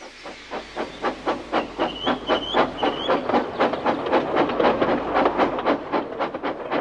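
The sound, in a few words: steam engine train hissing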